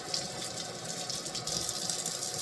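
Warm tap water runs steadily into a sink as trumpet parts are rinsed by hand, a constant close hiss and gush with no talking.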